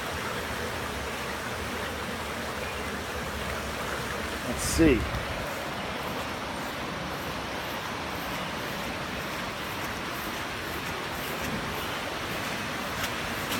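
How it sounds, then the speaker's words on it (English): Broad steady rush of a swollen creek running high after rain, trees standing in the water, a continuous wash of noise throughout with a brief voice partway. "Look at how much water's coming out of there"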